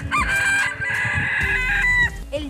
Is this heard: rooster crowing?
yes